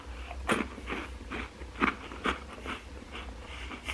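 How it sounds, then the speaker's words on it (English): Several crisp, close crunches from biting into a homemade vanilla wafer cookie, a few sharp bites spaced apart with softer chewing crackles between them, loud and clear against a quiet room. "let's listen. See if they're crunchy."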